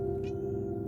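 A pet cat gives one short, soft meow over a steady electrical hum, close but quiet and brief.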